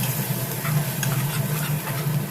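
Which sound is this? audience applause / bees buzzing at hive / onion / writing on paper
onion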